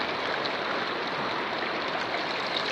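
River water rushes in a steady, dense wash while someone wades across a river outdoors, with an even, unbroken roar and no voices.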